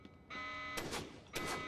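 Electronic alarm in the video game Syphon Filter: The Omega Strain, a steady tonal buzzing drone that kicks in and holds, moderately loud, with a couple of broad whooshing bursts layered over it.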